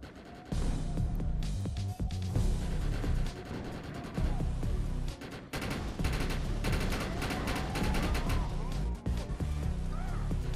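Sustained gunfire from the video game Defiance, loud rapid bursts of automatic shots with short breaks between them, heavy and close, carrying on through the whole stretch.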